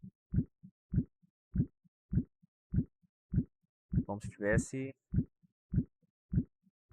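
Heartbeat sound effect in an animation, a steady double-thump pulse repeating roughly every 0.6 seconds, clear and upfront, with a voice speaking briefly over the middle of the beats.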